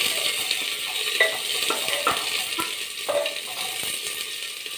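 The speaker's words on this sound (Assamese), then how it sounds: "কাটি থোৱা আধা টকুৰ পিঁয়াজ দি দিলোঁ অলপ লৰাই ল'ম ইয়াত" Chopped onion and panch phoron stirred in hot oil, a steady sizzle with repeated clinks and scrapes of a spatula against the pan, close and continuous, no talking.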